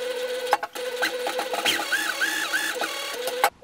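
A sewing machine runs a French seam across fabric, giving a steady mechanical whir with brief pauses and a few clicks, close by and alone.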